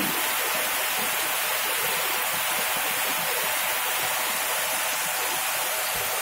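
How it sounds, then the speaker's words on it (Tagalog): Heavy storm rain with strong wind on the island of Bohol, a dense, constant roaring wash of downpour, close and loud with no break across the whole stretch. "Heavy rain. Malakas talaga."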